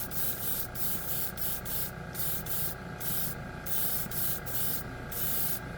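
Paint mixed with leveling thinner hisses from a spray gun in repeated bursts with short pauses between, loud and close, with no talking.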